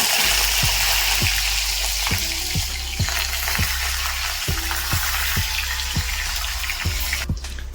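Asafoetida and curry leaves fry in hot oil for Bengali-style suji upma, a steady loud sizzle with a dense crackling hiss and a few soft clicks throughout, no voices.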